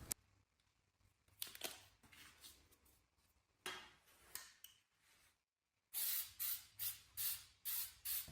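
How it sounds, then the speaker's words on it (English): Spray paint sprayed onto thrifted furniture legs and gold metal legs, in short hissing bursts with clicks and handling noises between them, then a run of rapid, regular close sprays. "by spray painting both, it brings everything into the same tone"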